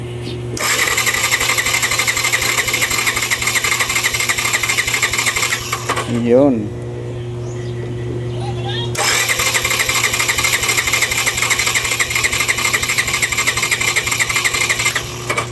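A Yamaha FZi 150 motorcycle engine cranks during a compression test with rapid, buzzy mechanical chugging. It stops briefly while someone speaks, then cranks again steadily at close range.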